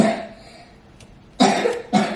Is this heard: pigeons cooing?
no